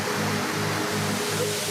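A waterfall roars steadily in a broad, even rush of falling water, loud and unbroken, with no voices.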